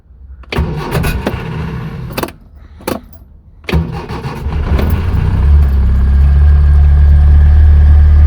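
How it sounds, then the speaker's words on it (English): Several clicks and clunks, then a choke-equipped car engine cranks on a cold start and fires up, settling into a loud, steady idle close by, indoors. "I promised you some cold start action."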